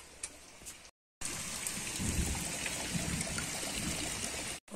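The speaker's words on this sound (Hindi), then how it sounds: "बारिश कहीं तेज जैसी आ रही है यार" Steady heavy rain pours down at night in a dense, even hiss, briefly cut off by a couple of gaps, with no voices.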